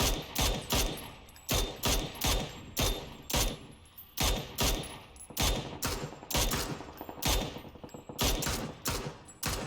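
Rapid bursts of automatic gunfire in PUBG aimed at a vehicle, clustered volleys of sharp cracks repeating in quick succession over several seconds, loud and close with brief gaps between strings.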